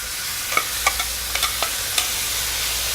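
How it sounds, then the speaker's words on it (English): Scallops sautéing in hot butter in a pan, a steady, close sizzle punctuated by several small clinks and pops as the pieces settle, with no talking. "once that butter gets nice and hot, we're gonna go ahead and saute those in there"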